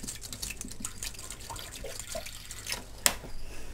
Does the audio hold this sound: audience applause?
no